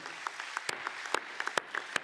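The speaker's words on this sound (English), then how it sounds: "I would like to ask you to clap hands for Alexander, for Nasser, and for Florentino" An audience at a FIFA gathering claps briefly, with a loose scatter of separate, fairly faint hand claps.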